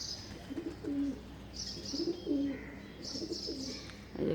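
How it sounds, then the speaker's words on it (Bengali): Pigeons and doves coo on a winter morning, several soft rolling calls repeating in a steady rhythm at moderate distance, with faint higher chirps from other birds in between. "এই যে কবুতরের ডাক শোনা যেতেছে,"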